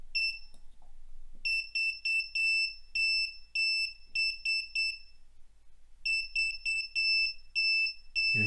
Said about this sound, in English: Okay, so that's the passive buzzer thing. Just some Morse.